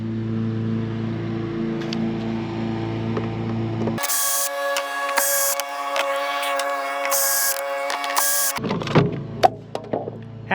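A powered driver whines steadily for several seconds as it backs out the cover screws on a Firman dual fuel generator. The sound is close and loud, followed by a few sharp clacks and rattles as parts shift.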